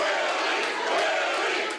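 Green Bay Packers fans cheer outdoors before a playoff game, a dense, loud crowd roar that holds steady throughout.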